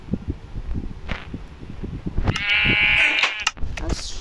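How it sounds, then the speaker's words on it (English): A Minecraft sheep gives one close, loud wavering bleat near the end, following soft footsteps and rustling movement, with no talk. "I'll shear some sheep."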